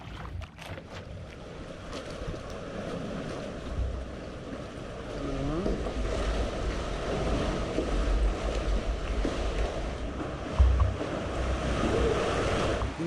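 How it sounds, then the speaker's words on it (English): Ocean waves wash over smooth open water while a boat moves through them, a steady swishing rush with gusts of wind buffeting the microphone, growing slightly louder as it goes. "Smooth water on the open ocean."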